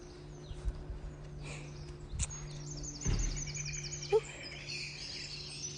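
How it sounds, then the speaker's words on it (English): Faint birds tweeting in the distance around a student accommodation in Manchester, scattered short chirps over a quiet outdoor background hum, with a few soft knocks and rustles. "You can hear the birds tweeting."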